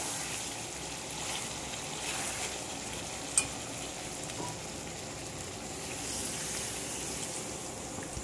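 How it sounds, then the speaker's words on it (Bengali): Water poured into sautéed chicken curry in a pan, a steady hissing sizzle that settles into a soft continuous bubbling wash, with one brief sharp clink partway through. "এবার আমি দিয়ে দেবো পরিমাণ মতো জল"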